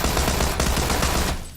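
A rapid burst of automatic gunfire in the video game PUBG rattles continuously for over a second, loud and close, then cuts off abruptly.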